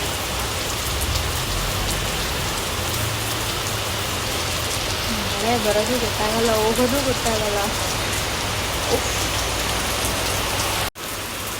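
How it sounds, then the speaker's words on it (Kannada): Sudden heavy rain pours steadily as a dense, continuous hiss of drops on surfaces, loud and close, while someone talks over it. "ಸಡನ್ ಇಷ್ಟೊಂದು ಮಳೆ"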